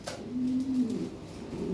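A toy Lahore Siraji pigeon gives one faint, drawn-out low coo that wavers in pitch, close but quiet over a soft background hiss.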